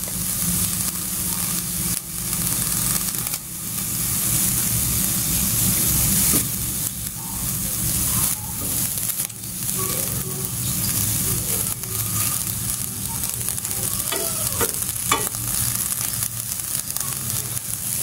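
Shrimp frying in a hot pan, cooked alongside corn and spinach, give off a steady, loud sizzle that runs for the whole stretch, with occasional stirring and turning noises and no talk over it.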